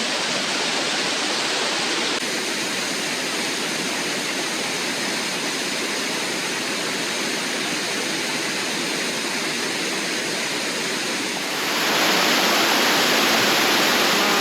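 Continuous roaring rush of a waterfall, loud and close, a dense steady wash of falling water that swells slightly louder toward the end.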